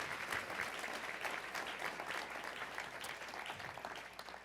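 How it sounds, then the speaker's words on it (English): An audience at a panel on college sports gives a round of applause, many hands clapping in a quiet, fairly distant, steady patter that fades a little toward the end, with no voices. "How about a big round of applause for the Mafia?"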